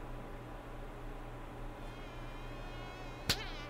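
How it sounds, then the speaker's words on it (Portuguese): A housefly buzzes as a steady, thin drone close by, holding level throughout with a brief sharp sound near the end. "Tem uma mosca aqui."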